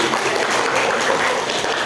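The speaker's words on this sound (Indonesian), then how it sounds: "tepuk tangan dong buat mereka" Audience applause for a presenting group at an Indonesian teacher training session, a loud dense burst of clapping filling the whole moment.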